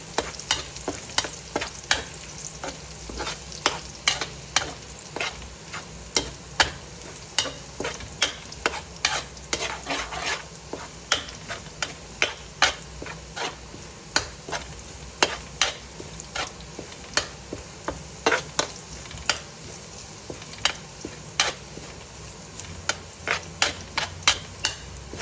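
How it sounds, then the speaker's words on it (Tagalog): Garlic frying in a pan while a utensil stirs it, giving a steady sizzle broken by frequent sharp scrapes and clinks of the spoon against the pan, close and continuous with no talk. "Halo-haloin natin hanggang sa maging medyo brown. Iwasan yung masunog ang bawang."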